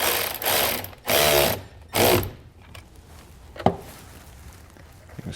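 A screwdriver tightens a ring terminal on a trailer wiring harness for a 2018 Volkswagen, with three short bursts of close ratcheting clicks, then a faint tap and quiet handling.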